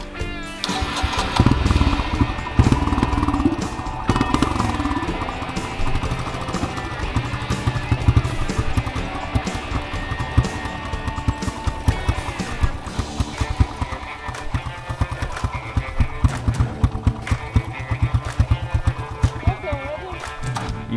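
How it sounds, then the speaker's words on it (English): A dirt bike engine is started and revved, with a near, loud, continuous rough engine rattle and repeated throttle blips throughout. Voices can be heard underneath. "Start it and rev it, and then you'll be good."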